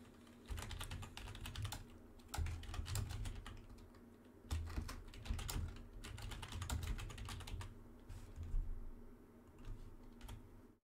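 Steady typing on a computer keyboard while entering a document header, with rapid quiet key clicks in irregular bursts and short pauses, close and soft over a low background hum.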